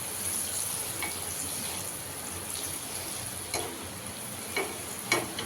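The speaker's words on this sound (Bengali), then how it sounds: "এই যে এখানে লাল লাল করে ভেজে নিচ্ছি" Egg fingers frying in hot oil, a steady close sizzle with occasional faint stirring taps and clinks.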